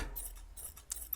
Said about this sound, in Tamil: மீதி பிசுரை வந்து வெட்டி விட்ருங்க